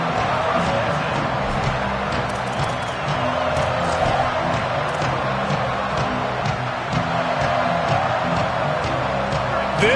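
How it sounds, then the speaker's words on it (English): A stadium crowd in a college football video game roars steadily throughout, a dense, continuous wash of cheering at even loudness with no clear breaks. "This crowd ready to make its presence known."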